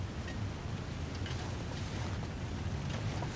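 A steady, low rushing roar of falling water from a waterfall in The Long Dark, continuous and fairly faint, with no talking.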